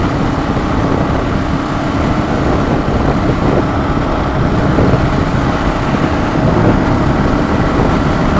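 A Tusk D-Sport motorcycle engine heard from the rider's seat while riding: a constant, close, rumbling drone that holds fairly even throughout, with no voices.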